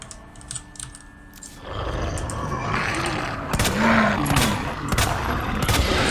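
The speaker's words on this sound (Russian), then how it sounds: "Два выстрела." Sharp gunshots ring out in the Resident Evil 2 Remake video game, several distinct bursts in the latter half over game ambience and clicking, loud and close.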